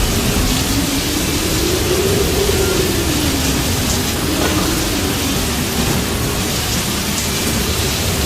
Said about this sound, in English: It has begun to rain hard in Costa Aero as it was windy